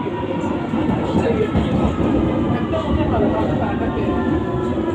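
A London Underground S7 Stock train rumbles along loudly and steadily between stations, with a dense roar and faint rhythmic clatter from the wheels throughout.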